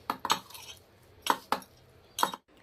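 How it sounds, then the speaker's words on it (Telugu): A utensil clinks against a bowl while cabbage pakodi batter is stirred with salt and ginger garlic paste, giving four or five sharp, close metallic taps at an uneven pace with quiet scraping between them. "ఇలా నీట్గా మిక్స్ చేసేసుకోవాలి"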